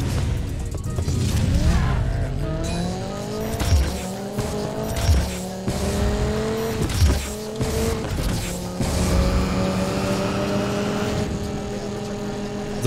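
Race cars, including a Viper, driving hard in the video game Need for Speed Payback, with loud rising engine revs, gear changes and tire squeal heard close and continuous.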